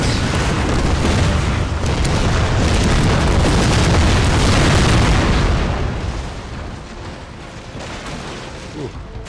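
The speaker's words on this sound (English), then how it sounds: "There's the muskets from the Marines." Marines fire muskets in Napoleon Total War, a loud, dense crackle of massed volleys rolling together for several seconds before thinning into a lower rumble.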